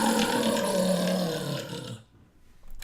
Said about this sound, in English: A growling, deep and rumbling, can be heard coming from the bushes.